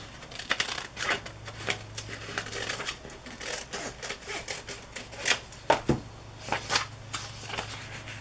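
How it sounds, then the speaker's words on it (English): Fabric being trimmed for the spine of a Little Golden Book journal, heard as quick, close, rhythmic snips and papery rustles in uneven bursts across the stretch, quiet, with no voices. "Just going to trim a little bit off of that right now."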